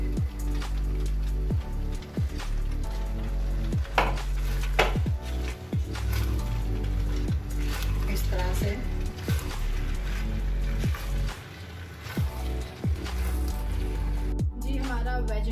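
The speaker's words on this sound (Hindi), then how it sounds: "थोड़े थोड़े करके हम इसमें पास्ता ऐड करेंगे और मिक्स करते जाएंगे।" Pasta being added a little at a time and stirred into a pan of vegetables and chicken, with repeated soft scraping, stirring strokes and wet squishing in a steady rhythm, fairly close, and a voice talking over it.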